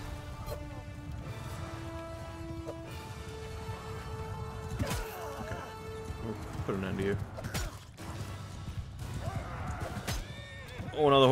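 Horses whinny in Mount & Blade II: Bannerlord amid a busy siege battle soundscape of clattering hooves, clanks and whooshes, with a short loud burst at the end.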